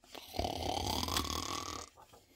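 A human voice mimics an otter snoring with a single long, loud, rattling snore, close and sustained, fading into quieter breathing.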